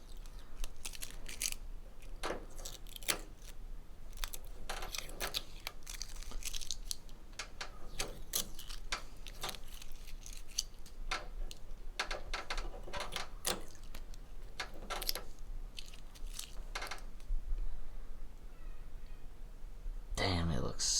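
Protective film peeled off lit logos on a Subaru WRX gives soft tearing, crinkling rips in bursts, close by and fairly quiet, with a voice talking at moments.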